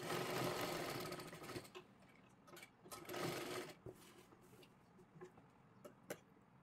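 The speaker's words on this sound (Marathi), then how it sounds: "परत एकदा एकदम कडेला शिलाई मारून घ्यायची आहे" Sewing machine stitching a seam close to the edge of a kurti, a steady mechanical whirr in two longer runs followed by short bursts and clicks, fairly quiet with no talking.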